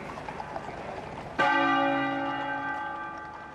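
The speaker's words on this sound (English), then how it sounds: "and the Sebastopol bell tolled," The Sebastopol bell at Windsor Castle tolls once during a royal funeral procession, a single loud struck note whose rich ringing hum lingers and slowly fades over several seconds after faint background murmur.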